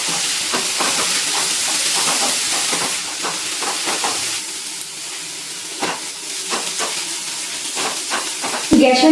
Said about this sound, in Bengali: গ্যাসের ফ্লেমটা লোতে দিয়ে ঘিয়ে ভালো করে পেঁপেটা ভেজে নিচ্ছি